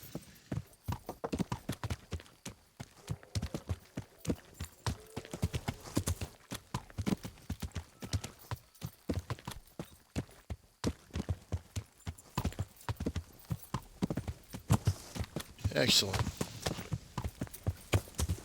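Horse hooves clip-clop in the medieval video game Kingdom Come: Deliverance, a steady, close rhythm of hoof strikes running throughout with a faint whinny late on, while a player occasionally speaks over it.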